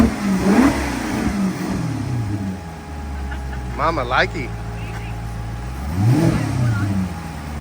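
A car engine with its exhaust opened up revs loudly in two strong bursts, settling to a lower rumble between them, while people talk and music plays nearby.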